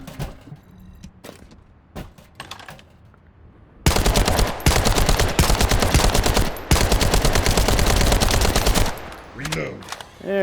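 Weapon fire in the test laboratory range of The First Descendant: a few scattered single shots, then long, loud rapid bursts of automatic gunfire with one short break, tapering into mechanical reload clicks at the end.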